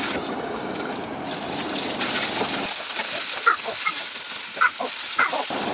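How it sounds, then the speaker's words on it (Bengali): Pabda fish frying in oil under a lid, a steady muffled sizzle and bubbling with a few sharp pops and spits near the end, close and moderately loud. "সেজন্য আমি ঢাকনাটা দিয়ে মাছটা ভেজে নিচ্ছি"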